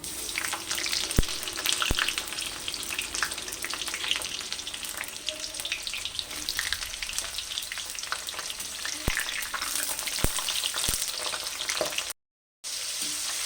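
Vegetables, including pointed gourd, frying in oil in a pan, with a loud, continuous crackling sizzle and occasional sharp spatula taps, briefly cut off near the end.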